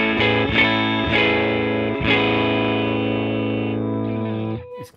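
A Carbonetti electric guitar from New York with mini humbucker and humbucker pickups plays a bypassed clean tone, a few strummed chords ringing out and sustaining before fading, alone and fairly close.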